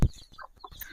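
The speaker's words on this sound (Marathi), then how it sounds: "हा दिसतायत छोटे छोटे कोंबडीचे पिल्ल आहेत इथे." Small chicks in a village give two quick, high, thin cheeps, with a soft thump at the start and faint outdoor background around them.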